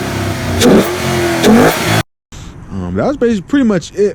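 A Ford car fitted with a JLT Series 3 cold air intake revs twice in loud bursts with heavy intake rush, then cuts to someone talking alone.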